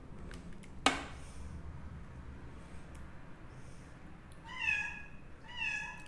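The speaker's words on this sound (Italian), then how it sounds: "Ci fate caso, c'è il gatto" A house cat meows twice from a few steps away in a home kitchen where lasagna is being layered, each call drawn out with a rising and falling tone over a quiet background that has one sharp knock earlier on.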